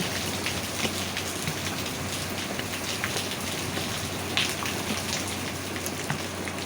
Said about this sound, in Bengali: সত্যি সত্যি বৃষ্টিটা নেমেই গেল